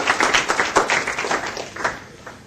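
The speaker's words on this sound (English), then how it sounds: "let's welcome him with a round of applause." A round of applause from an audience at a business talk, brisk and fairly close, rising quickly then thinning out over a couple of seconds, with no talking.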